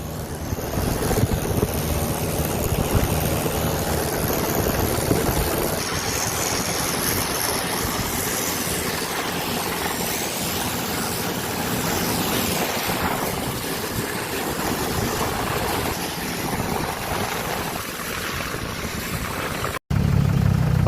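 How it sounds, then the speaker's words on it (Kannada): Motorbikes approach on a highway near Kollegal on the road from Bangalore to MM Hills, giving a loud, steady engine drone that holds for about twenty seconds with no talking, then cuts off briefly near the end. "ಬೈಕ್ ಬರ್ತಾ ಇದ್ದಾವೆ"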